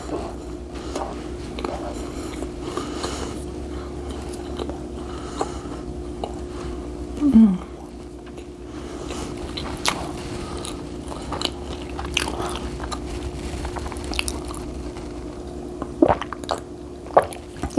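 Biting into and chewing a homemade soft pretzel, with soft squishy and faintly crunchy mouth sounds repeating close up over steady low background hum, one louder bite standing out midway.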